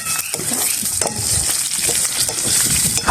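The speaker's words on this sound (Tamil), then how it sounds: "அப்படி போட்டால் தான் வெங்காயம் உருளைக்கிழங்கும் சேர்ந்து பொரியும்" Onions and potatoes frying together in a pan, a close, loud, steady sizzle broken by a few scraping stirs of a utensil.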